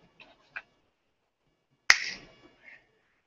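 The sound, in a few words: hypnotist snapping his fingers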